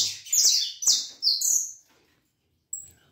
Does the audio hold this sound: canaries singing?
yes